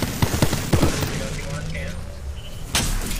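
Bursts of video game gunfire crack out in several sharp volleys, with a heavier blast near the end, all over a constant layer of in-game voices and battle noise.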